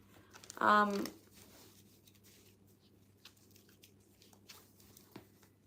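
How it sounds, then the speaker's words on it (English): Tarot cards are shuffled in a quiet room, starting with a short, close burst of riffling and crinkling and followed by faint scattered taps and slides. "shuffling the cards for you"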